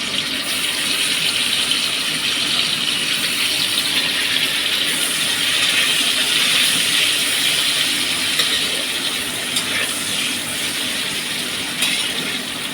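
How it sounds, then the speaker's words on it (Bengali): Cashews and raisins frying in a pan, a loud, steady sizzle and hiss that runs throughout, close up, with a few faint clicks near the end. "আর এখানে আছে কাজু কিশমিশ, সেটাকে ওখানে ফ্রাই করে নেব।"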